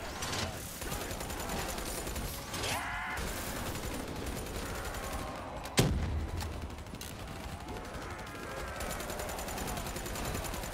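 A Razorback submachine gun fires during a Call of Duty Black Ops 3 zombie co-op campaign: sustained, rapid automatic gunfire with one sharp, louder crack partway through and faint voices in the background.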